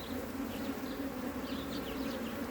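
Honeybees buzz around a hive frame full of worker brood, a soft, steady droning hum with individual bees passing close by now and then, fairly quiet and with no voices.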